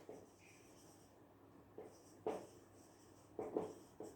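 Pen or pencil strokes writing out a physics equation by hand, with soft scratchy marks that come in short separate bursts, quiet and close.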